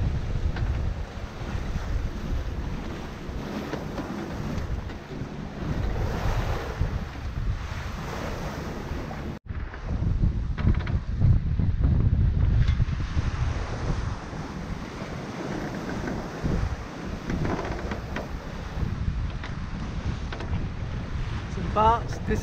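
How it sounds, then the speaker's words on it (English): Hallberg-Rassy 54 sailboat running downwind under mainsail alone in rolling seas off St. Maarten, with steady rushing water, wave wash and wind buffeting on the microphone, loud and continuous throughout. "Just going downwind with the main only, very rolly."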